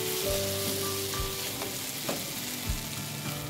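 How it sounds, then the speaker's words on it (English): Mutton pepper fry sizzling steadily in a non-stick pan, with intermittent scraping and clacking as it is stirred, the frying hiss continuous and close throughout. "The mutton must be stirred at regular intervals to prevent it from getting stuck to the bottom of the pan"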